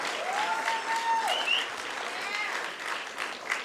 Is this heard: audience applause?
yes